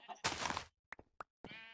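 Sheep in a blocky multiplayer survival video game let out two bleats, the first longer and the second short near the end, with small clicks in between. The sound is quiet.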